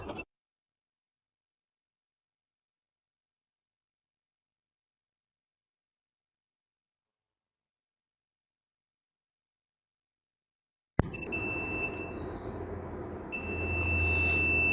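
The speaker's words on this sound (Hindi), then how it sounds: "एक्साइड की बैटरी वाला इन्वर्टर लो बैटरी का इंडिकेटर दे रहा है और बजर भी दे रहा है" An Exide-battery inverter's low-battery buzzer sounds during a load test with three inverters running, coming in after a long silence as a loud, steady electronic beeping tone that continues to the end.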